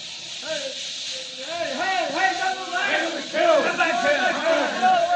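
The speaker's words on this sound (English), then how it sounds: "plunges into a cloud of steam" Steam hisses at a steam plant in an old radio drama, a steady broad hiss that swells louder under voices talking throughout.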